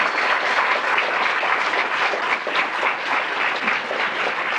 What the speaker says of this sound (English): let's give them a round of applause for the candidates that answered the questions.